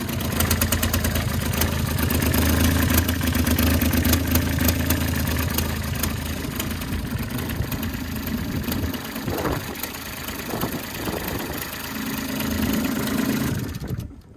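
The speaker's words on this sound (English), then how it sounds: "I think we've got an exhaust leak." A car engine with a leaking exhaust idles with a loud, rough, chuffing rumble close by, easing slightly midway and then swelling again before it abruptly cuts off at the end.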